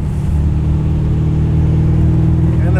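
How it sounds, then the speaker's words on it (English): A Ford XW GT's V8 exhaust at Summernats gives a steady, close, loud rumble as the revs climb gently, with no speech over it. "And the soft acceleration and the sound of the revs just rising slightly out of that exhaust pipe."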